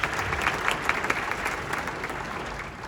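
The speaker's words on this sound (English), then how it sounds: "Can we please give all of these individuals a round of applause?" Applause from the audience at an All District 2020 school band event, honouring band directors: a dense, steady wash of many hands clapping in a large hall, fairly loud and continuous with no talk over it.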